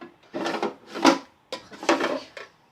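Two drawers of a makeup storage organizer sliding open and shut in turn, each a close, scraping rumble about a second long, with a short pause between them.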